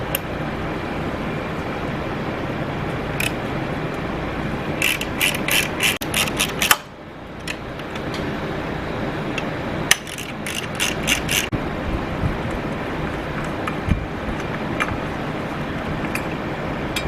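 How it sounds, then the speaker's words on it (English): Close, crisp clicking of a ratchet turning a size 12 socket on a Yamaha FZ6R motorcycle, coming in quick bursts of rapid ticks separated by short pauses, with no talking. "Number 5 hex key and a size 12 socket."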